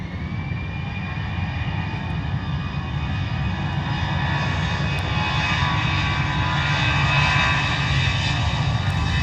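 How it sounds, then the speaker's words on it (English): An Airbus A319 runs up to takeoff power for Glasgow at Geneva, a loud, steady jet roar with a deep rumble and whining high tones that holds without break throughout. "Power set, A319 off to Glasgow."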